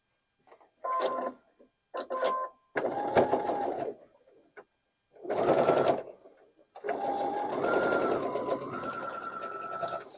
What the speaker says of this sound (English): Let's go to the sewing machine and put these together.